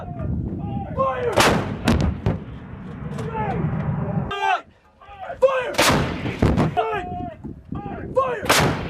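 Artillery guns firing during U.S. Marines live-fire training, a series of loud, sharp booming reports in close succession, interspersed with shouted commands from the crew.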